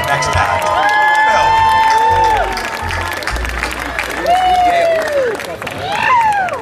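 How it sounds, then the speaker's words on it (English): A small crowd at a live stage show applauds and cheers, with clapping and whoops over a steady murmur of voices and scattered high shouts throughout. "for all of you three people that clapped for me"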